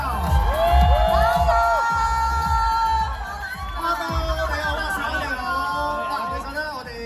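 A shopping-mall audience in Tsuen Wan cheers and whoops to welcome a singer onstage, with loud crowd shouts and children's voices over amplified speech and music.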